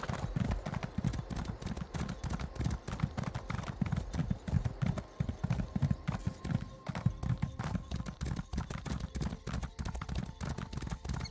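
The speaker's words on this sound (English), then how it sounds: "let's grab our horse right now" Steady clip-clop of a horse's hooves in The Elder Scrolls, a fast continuous trotting rhythm at moderate level throughout, with no talk over it.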